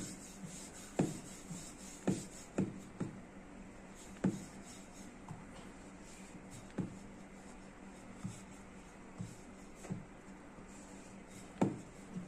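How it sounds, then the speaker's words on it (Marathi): Puran poli dough is rolled out into a flatbread, giving soft, quiet rubbing and scraping strokes of a rolling pin on a board. Sharper taps recur at irregular intervals about a second apart, and no one speaks. "आता पुरणपोळी लाटायची।"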